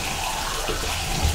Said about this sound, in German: ein bisschen tröpfeln, dort zu schauen, wo es tröpfelt